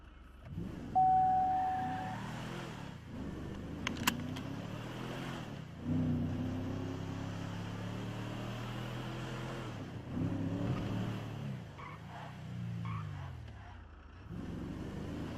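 A car engine in the video game GTA V drives and revs, a low motor hum that climbs and falls through several acceleration sweeps, moderately close, with a short tone and faint voices in the background.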